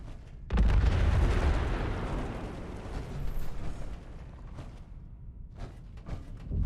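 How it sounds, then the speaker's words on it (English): Bombs detonating in the Fallout 76 game, Steel Dawn questline: a sudden heavy blast erupts, then a long rumbling roar slowly decays into crackling debris and scattered smaller pops, loud and close. "I'm detonating the bombs. Stand back!"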